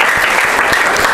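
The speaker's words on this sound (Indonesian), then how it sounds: "Kita aplaus lagi." An audience at an Indonesian classroom event applauds, a dense burst of steady clapping close and loud with no pauses.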